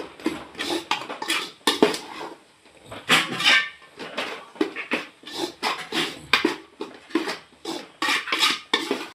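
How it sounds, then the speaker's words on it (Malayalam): Turmeric, coriander and chili powders being stirred into food in a metal pan, with repeated scraping and clinking of a utensil against the pan in an irregular rhythm, close up and fairly loud, with no talk. "മഞ്ഞൾപ്പൊടി, മല്ലിപ്പൊടി, മുളക് പൊടി, മഞ്ഞൾപ്പൊടി എല്ലാം കൂടി ഇട്ട് നമുക്ക് നന്നായി ഒന്ന് ഇളക്കാം."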